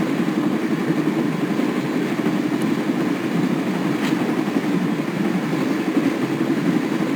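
A train rolls along in the Broken Sword game, a steady, loud rumble with dense noise that holds unchanged throughout and has no distinct clacks or voices.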